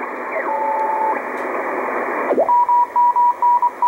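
A Morse code CW signal on the 28 megahertz shortwave amateur band beeps as a clean tone through radio hiss, first one long steady note, then after a tuning sweep a rhythmic series of dots and dashes.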